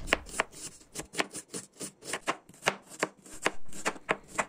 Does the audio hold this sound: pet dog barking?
no